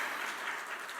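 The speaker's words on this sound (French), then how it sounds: "Vive les mariés, on peut les applaudir quand même." Audience at a couples' conference on sexuality applauding a newly married pair, a dense steady patter of clapping filling the whole moment with no voices.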